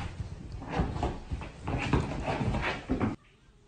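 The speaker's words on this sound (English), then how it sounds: "You talking to the other dog?" A dog makes whining, whimpering sounds with snuffly breaths, close and fairly loud for about three seconds before cutting to near silence.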